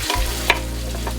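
Canned tomato juice pours into a hot, sizzling pot for homemade tomato sauce, giving a steady close frying hiss with a brief splash partway through and no talking.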